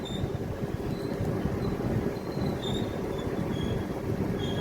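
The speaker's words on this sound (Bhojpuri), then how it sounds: "देखिए जो मुड़े ट्रेन तो बड़ा बढ़िया लगे रहा" A passenger train on the Ara to Mumbai route rumbles steadily along the track, with a constant low roar from the wheels and faint intermittent high squeals, heard from on board.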